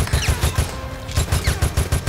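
Machine gun fire in Resident Evil Operation Raccoon City hammers out in rapid, evenly spaced loud bursts. A brief pause breaks the stream before the steady rattle resumes, with no voices.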